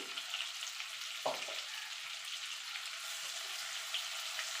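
Tomato frying in oil sizzles steadily up close, with a brief scrape or knock of a stirring spatula near the start and a continuous hiss throughout.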